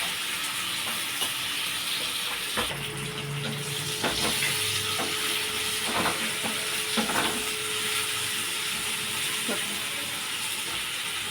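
A sambar tempering sizzles in a pan, with a steady soft crackle of oil running throughout and occasional clicks and scrapes from stirring or handling the pan, all fairly quiet and close.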